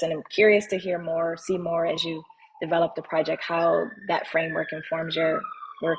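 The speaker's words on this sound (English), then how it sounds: "Sorry for the sirens." Police sirens wailing outside during a thesis defense, a faint rising and falling tone running beneath a person speaking in the foreground.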